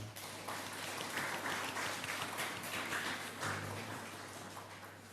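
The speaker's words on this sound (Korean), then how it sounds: "우리 옆에 있는 분들 박수로 환영하기를 원합니다." A church congregation at a Sunday service claps in welcome, a steady moderate round of applause sustained for several seconds with a low hum beneath.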